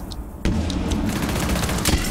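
Gunfire in the video game Rainbow Six: a rapid burst of shots with booming, fusillade-like reports starting abruptly and continuing densely for about two seconds, loud and close.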